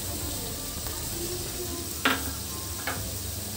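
Chilli powder, coriander powder and garam masala frying in oil in a pan for a field bean (anapaginjala) masala curry, a steady close sizzle with two sharp scraping stirs of the spoon.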